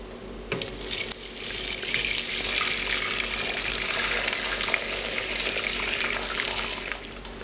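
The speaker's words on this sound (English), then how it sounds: "Okay, we're straining it into a smaller pot." Chicken stock poured through a sieve into a smaller pot makes a steady, close rushing splash of liquid that holds at an even level throughout, with no voices.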